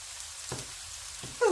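Eggplant and peppers frying in a pot, a steady soft sizzle with two brief scraping stirs and a louder hiss at the end, close up, without speech.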